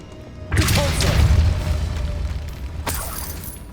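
In the Hogwarts Legacy video game, a Repulso spell goes off with a loud, booming blast and a rumbling whoosh that slowly fades. A second, fainter burst follows near the end.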